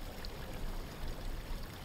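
A stream flows steadily with a dense, even wash of rushing water, filling the short scene from a fantasy drama series without any voices.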